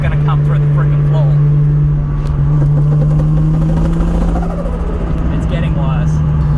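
A car drives along with a bad drivetrain fault, giving a steady loud drone and a persistent low whine that holds through the whole drive, with wavering rattly undertones from underneath.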